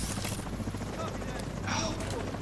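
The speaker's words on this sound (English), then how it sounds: "Now you see the first helicopter's coming in here" A helicopter in The Division 2 video game arrives with a steady rotor drone amid game noise, while a person keeps talking over it.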